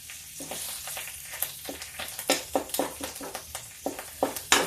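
Fenugreek seeds and bay leaf drop into hot oil for a drumstick kadhi, and a busy sizzle follows. Sharp crackles and pops burst irregularly over a low hiss, close and fairly loud.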